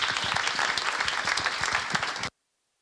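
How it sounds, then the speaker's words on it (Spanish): At a Spanish lecture on women's clothing in Julio Romero de Torres's paintings, an audience claps for the speaker in a dense, steady burst of applause that cuts off sharply, leaving silence. "Un aplauso"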